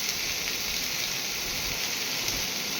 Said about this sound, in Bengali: আলুগুলোকে হালকা একটা বাদামি কালার আসা পর্যন্ত ভাজতে হবে